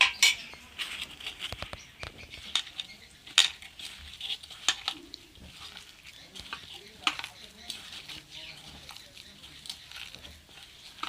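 Chicken pakora batter with soy sauce is mixed in a bowl, giving irregular soft squishing and light clinks of a spoon against the dish, close by with no talk.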